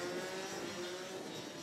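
DD2 racing karts rev together at a race start on a circuit, a steady, somewhat distant high engine whine that holds a sustained pitch over a broad roar.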